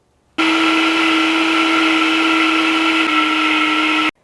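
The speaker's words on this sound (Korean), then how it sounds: "이렇게 준비된 것을 믹서기에 곱게 갈아주시면 되는데요" A blender runs at a steady, loud, high-pitched whir for about four seconds, blending avocado dressing, starting and stopping abruptly, with no voices.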